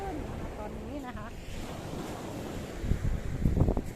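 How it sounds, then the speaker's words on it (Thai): Waves wash steadily onto a winter beach as wind buffets the microphone, a constant roar with surf swelling louder toward the end while someone talks over it. "ก็พาคาร่ามาเที่ยวทะเล"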